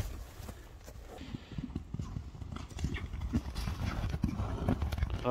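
A stout ulak (kokpar) horse is led out on foot, its hooves clip-clopping in a steady walking rhythm at close range, with faint background noise and no talk.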